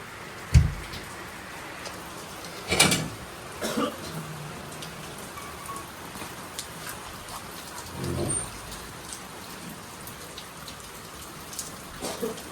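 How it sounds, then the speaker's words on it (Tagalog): Steady rain falls outside at night around a house, a continuous soft patter with a few louder drips and knocks standing out at intervals, fairly close and with no talking. "maulan pa, guys"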